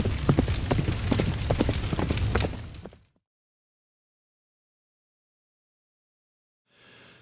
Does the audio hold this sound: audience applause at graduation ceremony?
no